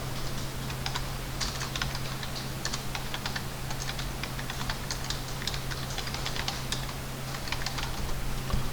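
Rapid, steady typing on a computer keyboard while entering drawing commands in CAD software, continuous close clicking keystrokes throughout with a low steady hum beneath.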